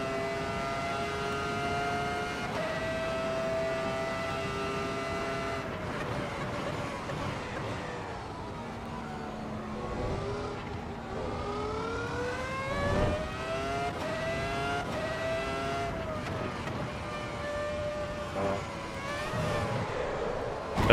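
Ferrari F2004 racing car engine at Monza in AC Evo, a high-pitched whine rising and falling with gear changes and throttle, steady and loud throughout with other cars nearby.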